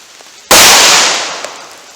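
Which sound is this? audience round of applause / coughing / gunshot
gunshot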